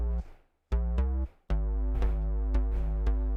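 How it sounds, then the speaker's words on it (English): A Juno synth bass line plays a few sustained, harmonically rich notes with sharp attacks and one brief pause, fairly quiet and alone without talk. "copied it over to a Juno bass, which sounds like this"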